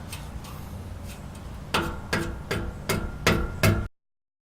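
Hammer blows serve as a makeshift impact wrench while a Magnaflow exhaust goes onto a 2004 Ford F-150 5.4L 3V: about five sharp, evenly spaced metallic strikes ring out close, each about half a second apart, after faint knocks at first.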